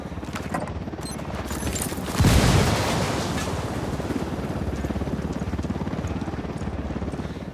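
A helicopter drones steadily in the Ghost Recon Wildlands video game, a dense, loud rotor wash layered with a sharp burst, like gunfire or an explosion, partway through.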